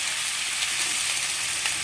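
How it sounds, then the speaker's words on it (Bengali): Potatoes and capsicum fry in a pan with a loud, steady, close hiss of sizzling oil that runs without a break. "আমি তৈরি করছি আলু ও ক্যাপসিকাম ভাজা"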